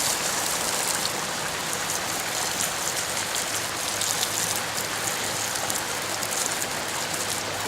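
Hose water sprays steadily onto pond filter media being rinsed clean, a continuous close rushing hiss with no break or change in level.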